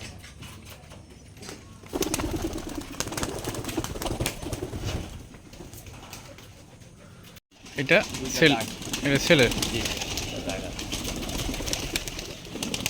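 Pigeons coo softly in the background while people talk nearby, with some rustling and a brief flutter of movement.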